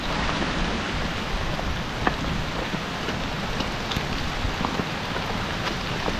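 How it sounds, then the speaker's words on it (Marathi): Rushing water from a waterfall makes a steady, dense roar that holds at the same level throughout, with no voices. "पाण्याचा आवाज येतोय"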